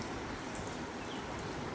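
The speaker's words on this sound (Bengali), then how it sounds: "দেখো কত বৃষ্টি পড়ছে, দেখো এই দেখো কত বৃষ্টি পড়ছে।" Steady rain falling outdoors on the way to a riverside ghat, a continuous even hiss of drops with no breaks, moderately close and alone.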